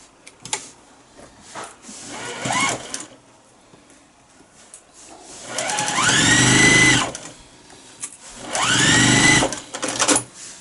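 A sewing machine stitches pleated fabric for a face mask in several separate whirring bursts, short at first and then longer runs, loud and close with quiet pauses between and no voices.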